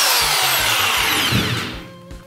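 A Makita 2470 rotary hammer drill runs in reverse with no load, giving a loud, steady whine that spins down near the end of the short burst.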